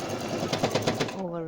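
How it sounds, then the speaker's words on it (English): A sewing machine stitches briefly over a placket, a quick close whirring run with a rhythmic needle pulse, followed by a voice speaking as the stitching stops. "I'm just going to lock my placket and make a stitch"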